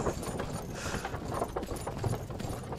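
Horse hooves walk in Myth of Empires, a steady clip-clop of hoofbeats close by over uneven ground, clopping in a loose rhythm without talk.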